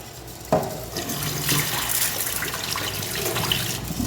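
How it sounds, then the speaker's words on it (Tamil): Water gushes from a kitchen tap onto rice set to soak for mutton biryani, a continuous close splashing and filling rush that holds steady for about four seconds. "நான் ஊற வச்சிடுறேன் இப்போ நல்லா ஊறும் ரைஸு"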